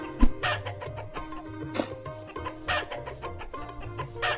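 A hen clucks in the Meena video game, a busy run of short, close clucks and squawks with one sharper cry, repeating steadily over a bed of game music.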